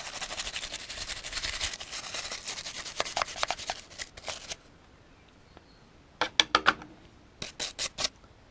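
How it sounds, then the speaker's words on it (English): A wire brush scrubs sand and dirt off a metal detector being restored, making raspy bristle strokes that come in bursts, dense at first and then spaced out with pauses between them. "I've got a wire brush on it at the moment"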